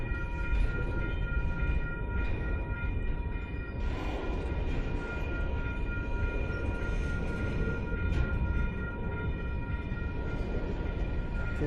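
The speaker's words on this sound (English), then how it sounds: "Oh, this is a long train. And it's going slow." A long freight train rolls slowly past near a river in California, giving a continuous rumbling clatter of railcars with steady squealing tones and a few sharper clanks, fairly close and unbroken, with no voices.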